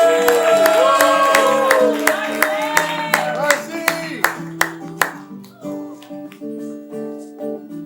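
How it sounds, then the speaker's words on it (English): Live late-show studio audience clapping for an arriving guest, a dense round of applause with sharp individual claps that thins into scattered hits under held musical tones. "I want to get the round of applause going"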